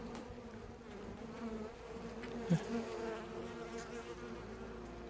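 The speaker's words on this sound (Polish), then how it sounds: "Tak jak mówiłem, pszczoły jest dosyć sporo tutaj." A steady, low drone of many bees buzzing fills the air, with individual insects passing near the microphone now and then.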